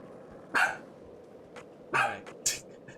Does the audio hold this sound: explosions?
no